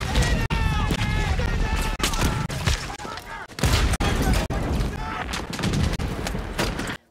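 Dense battlefield gunfire from the Saving Private Ryan opening beach landing scene, with sharp shots and bursts cracking continuously over a loud, chaotic roar of combat, with voices shouting amid the din.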